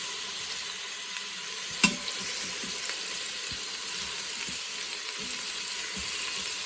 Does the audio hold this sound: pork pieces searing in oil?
yes